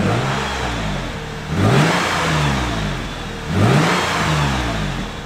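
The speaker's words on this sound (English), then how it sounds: "Ricky, give me some revs to see how this thing sounds." A car engine revs hard twice, each time climbing sharply in pitch and then easing back to a steady idle between the pushes. The car is about to get an axle-back exhaust fitted, and no one speaks.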